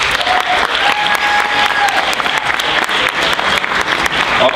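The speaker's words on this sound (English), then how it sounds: "please give a round of applause for yourselves" A room full of people at a business club conference applauds steadily, dense clapping holding at an even level throughout, with a faint voice briefly beneath it.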